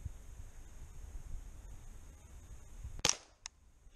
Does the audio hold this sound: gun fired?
yes